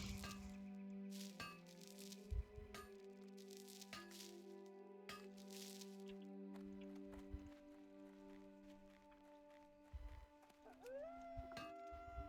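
A wolf in World of Warcraft Classic lets out a couple of long, wavering howls over a quiet game soundscape of soft tonal music and occasional sharp cracks.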